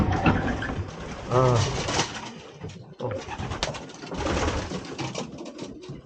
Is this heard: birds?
yes